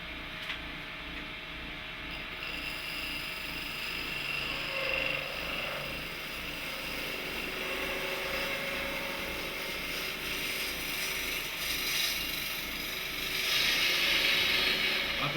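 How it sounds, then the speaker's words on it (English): Bowl gouge cutting a spinning piece of wood on a lathe: a steady whirring, chattering scrape close by that holds for the whole stretch and grows slightly louder near the end. "this time I'm going to try using the bowl gouge"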